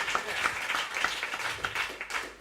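Audience applause at a London jazz concert, a moderate steady clatter of many hands clapping at a fair distance, with a few voices faintly underneath.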